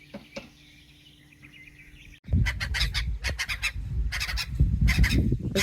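Nesting waterbirds by a lake at the top of a Swedish canal break into loud, harsh honking calls after a brief quiet lead-in, a rapid overlapping burst of agitated cries close by.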